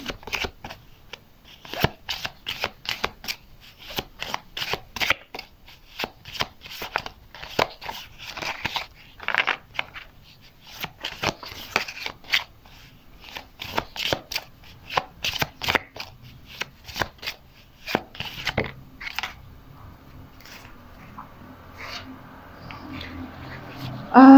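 Tarot cards being shuffled by hand in a dense run of crisp riffling bursts for about twenty seconds, then the card sounds stop and only a faint low background remains.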